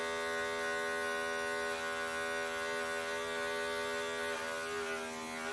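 Electric hair clippers running during a self-administered taper haircut, a steady close, loud buzzing drone that holds evenly throughout with no talk.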